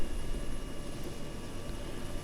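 Russian Mi-8 helicopter in flight in the video game Arma 3, a steady broadband engine and rotor roar holding at a constant level throughout, close and alone with no talking.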